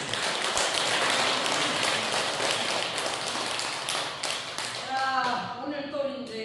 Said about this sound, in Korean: 우리 명사님께 다시 한번 큰 박수